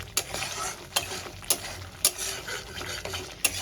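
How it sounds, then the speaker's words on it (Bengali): Spice paste for a katla fish curry fries and sizzles in a pan while a utensil scrapes through it in repeated sharp strokes, close and loud with no talking. "মশলাটা আমার খুব ভালো করে কষানো হয়ে গেছে"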